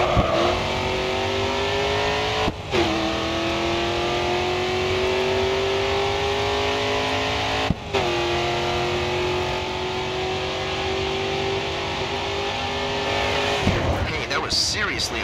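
A race car engine screams at full throttle in Grid 2, holding a steady high rev with brief drops at two gear shifts, then a burst of tire noise near the end, loud and up close.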